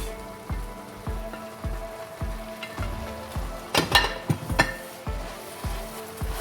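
Plantain porridge with spinach being stirred in a pot, a spoon scraping in steady rhythmic strokes about twice a second, close and fairly quiet, with a few busier scrapes midway and no talking.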